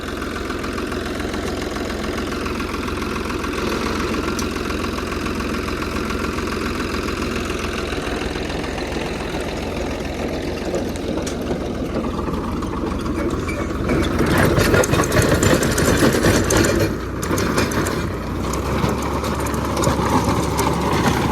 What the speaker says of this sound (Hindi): और अब ट्रैक्टर चालू करवा रहे हैं।